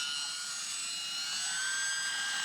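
A UMX Turbo Timber model airplane flying low and slow over the desert with full flaps, its electric motor a steady high whine that rises slightly in pitch, heard alone and fairly distant.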